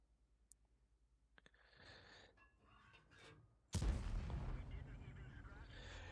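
Tank cannon fire and a high-explosive shell hit in the World of Tanks video game, with faint clicks and small thuds giving way to a sudden loud boom and a roaring rumble that fades slowly.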